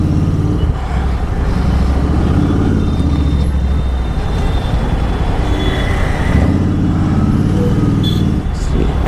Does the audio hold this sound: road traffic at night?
yes